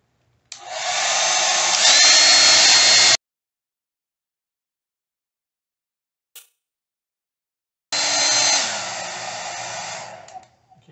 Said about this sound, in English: Just blow out to dry it because I want to get all the moisture out from